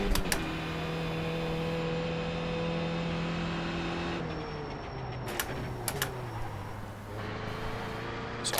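Race car engine in a driving video game on an unfamiliar track, droning steadily then dropping in pitch as it shifts down, with a few short clicks near the end and no talking.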